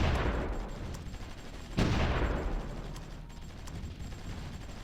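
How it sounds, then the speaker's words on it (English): In the Supreme Ruler Ultimate strategy game, a gun emplacement fires on British ships, producing a steady rumble of distant gunfire with one sharp, louder blast partway through, with no talk. "I think that was our gun emplacement firing upon the British ships."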